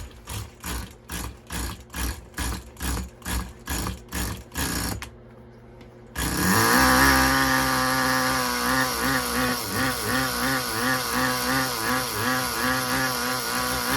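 A rebuilt Tamiya TGS-R nitro RC car engine is cranked with about ten rhythmic pulls, goes quiet briefly, then fires and keeps running as a loud, buzzing, slightly uneven whine.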